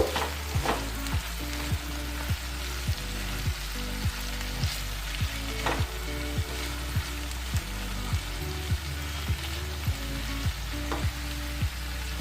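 Beans and potatoes cooking in a pan for a vegetable sabzi, with a steady sizzle and a repeated scrape of stirring at a regular rhythm. It is close and even, and no one speaks.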